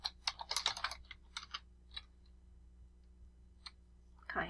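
Quiet typing on a computer keyboard, with quick clusters of key clicks followed by a few scattered taps and longer gaps, recorded close and with no talking.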